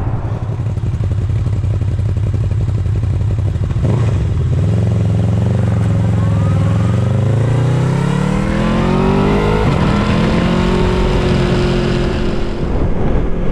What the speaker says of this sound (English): Oh, exhaust sounds sweet, man.